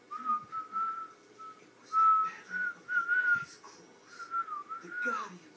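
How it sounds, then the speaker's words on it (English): A person whistles a wavering, bird-like tune in faint, broken phrases, with short chirpy slides and brief pauses, heard fairly near against a soft background. "this is a whistle."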